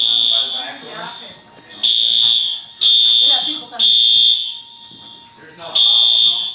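An accidentally pulled fire alarm sounds in loud, shrill pulses about a second long, repeating at a steady rhythm while people talk over and between the blasts.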